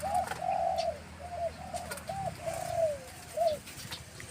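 A trained wild dove cooing outdoors, a run of short mellow hooting coos in an uneven rhythm at moderate distance, over a low rumbling background with faint chirps.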